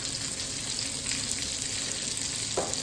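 Cherry sauce reducing in a pan, giving a steady soft hiss and bubbling sizzle throughout, faint and continuous with a small clink near the end.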